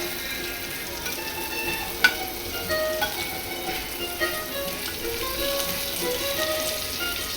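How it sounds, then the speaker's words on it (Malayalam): Paneer frying lightly in a pan, a steady close crackling sizzle with small pops and an occasional sharp tap of a utensil, no voices. "ചെറുതായിട്ടൊന്ന് ഫ്രൈ ചെയ്തെടുക്കുക"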